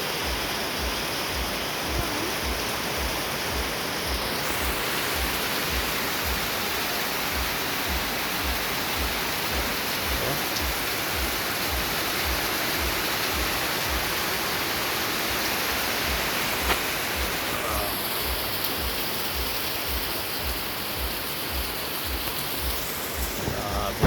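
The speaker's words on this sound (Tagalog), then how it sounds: "Grabing ulan." Heavy rain pours down in a steady, loud, unbroken roar that fills the whole stretch, with no voices clearly standing out.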